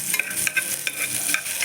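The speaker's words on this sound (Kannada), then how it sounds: "ಗೆಣಸನ್ನ ಸ್ಮಾಲ್ ಪೀಸಸ್ಸಾಗಿ ಕಟ್ ಮಾಡಿಕೊಂಡು ತುಪ್ಪದ ಜೊತೆಗೆ ಬೆರೆಸ್ಕೊಳ್ಳಿ" Small sweet potato pieces stirred with ghee in a pan, a spatula scraping and clicking over a steady soft sizzle.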